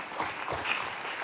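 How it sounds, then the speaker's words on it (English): Brief, soft applause from an outdoor crowd at a Greek Independence Day flag raising in Aurora, a continuous patter of clapping hands with no speech over it. "a round of applause."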